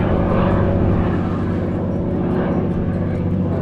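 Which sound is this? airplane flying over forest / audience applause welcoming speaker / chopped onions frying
airplane flying over forest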